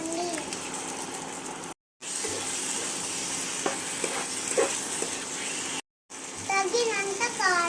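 Chicken pieces for biryani stir-frying in a pan, a steady loud sizzle with scraping stirs, briefly cut out twice, while a voice talks over it.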